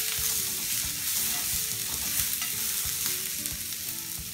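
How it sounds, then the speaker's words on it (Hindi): Peas and coriander powder being stirred in a frying pan, a steady close sizzle with dense scraping and clinking of the spoon throughout, no voices. "मटर के दाने डाल देंगे, धनिया पाउडर, इसको मिक्स कर लेंगे।"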